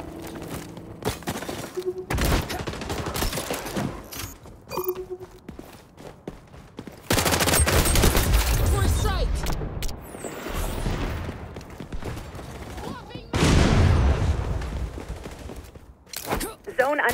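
Grenade blasts and bursts of gunfire in the shooter game XDefiant, played in an Occupy match on the Liberty map, arriving in loud heavy waves with thumps and rapid shots, mixed with game announcer callouts and player voices.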